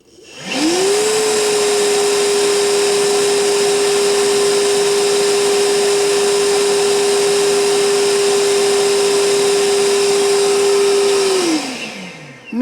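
A Milwaukee M12 Fuel cordless handheld vacuum on high power whirs up to a steady high-pitched whine, runs continuously for about ten seconds, then spins down.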